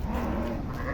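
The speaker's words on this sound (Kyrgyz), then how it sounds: "Ушу козулар сатылат." Lambs and a ewe penned for sale bleat loudly and close by in a short, continuous burst.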